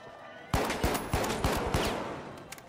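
A burst of rapid gunfire from a new weapon in the online shooter The Finals: about five sharp, evenly spaced shots, loud and close, with a short ringing tail after each.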